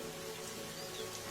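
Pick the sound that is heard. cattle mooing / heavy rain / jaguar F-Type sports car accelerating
heavy rain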